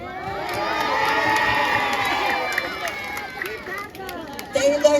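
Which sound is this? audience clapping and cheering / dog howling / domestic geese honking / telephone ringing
audience clapping and cheering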